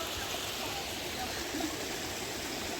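A stream running full along the trail to Laurel Falls, a steady broadband rush of water that stays even and close throughout with no break.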